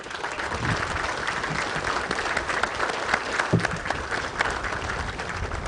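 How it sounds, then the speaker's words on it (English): A large crowd at a military assumption of command ceremony claps for the commanders and colors, a dense, continuous wash of applause that stays steady from start to finish. "how about another round of applause for all of them?"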